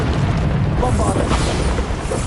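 Bombarda spell explosions from combat in the video game Hogwarts Legacy, a loud, continuous booming rumble that stays heavy throughout, with in-game voices mixed into the din.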